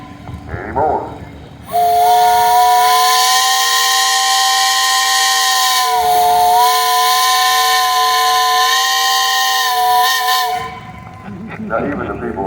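A steam engine's whistle blows one long, loud, steady chord of several tones for about nine seconds, with a brief dip in the middle, then stops. Crowd noise and talk come before and after it.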